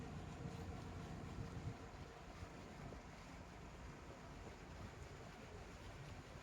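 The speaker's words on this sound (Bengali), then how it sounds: "ছুটে চলেছে আমাদের লঞ্চ, বিপুল জলধারা" A launch boat cruising along a wide river in the Sundarbans mangrove forest, giving a steady, faint engine drone mixed with wind and water rush, continuous and even throughout.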